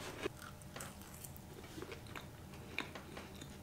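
Toasted bread with eggs is bitten and chewed close up, giving quiet, steady crunchy mastication with a few sharper bites.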